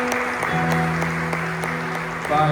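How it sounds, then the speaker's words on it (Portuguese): A church congregation at a Sunday service claps together, the dense patter partly masked by sustained keyboard or organ chords that ring underneath throughout. "Então eu te convido a dar a melhor salva de palmas para a glória e honra do nome de Jesus Cristo."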